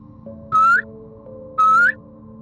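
A person whistles two drawn-out rising notes in front of an abandoned house at night, evenly spaced and loud, over a faint steady hum with no talking.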